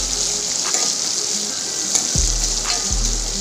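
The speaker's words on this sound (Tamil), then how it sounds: "இதை எல்லாத்தையுமே நல்லா எண்ணெயிலேயே வதக்கி விடுங்க" Curry leaves and dried red chillies sauté in hot oil for a curry leaf chutney, giving a steady close sizzle with a couple of soft low knocks, no voices.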